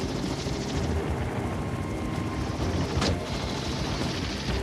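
Helicopter flying overhead during a buffalo capture operation, its steady rotor chop and engine roar loud and continuous throughout, with a brief sharp crack near the middle.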